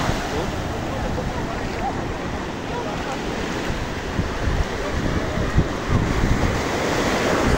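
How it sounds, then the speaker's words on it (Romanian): Sea waves surge and wash along the shore at Nesebar on the Bulgarian Black Sea coast, a steady rushing roar with wind buffeting the microphone and swells building toward the end. "Se aude cum se umplă valul."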